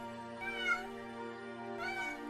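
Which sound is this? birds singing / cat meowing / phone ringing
cat meowing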